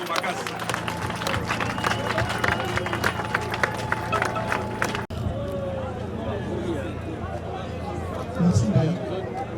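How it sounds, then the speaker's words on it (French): An audience applauds an artist at a gathering in the Democratic Republic of the Congo, with sustained clapping and crowd noise, then a shift to quieter hubbub and chatter. "acclamons l'artiste"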